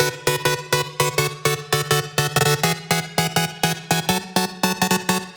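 A punchy drum loop processed with a transient shaper, OTT compression, and very short reverb and delay plays a steady, driving pattern of sharp hits, loud and close with no voices.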